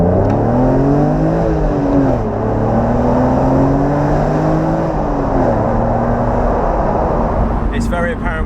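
Engine of a BMW Alpina Roadster S pulling through the mid-range, a steady drone that climbs in pitch, dips briefly and climbs again, heard from inside the car with a voice speaking over it.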